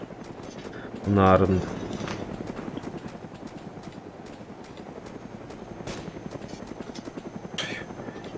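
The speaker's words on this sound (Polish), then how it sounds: "Trzy helki nad lotniskiem latają." Helicopters in the video game DayZ thrum with a steady rotor chop as they fly over an airfield, moderately loud and continuous, with a short voice heard early on.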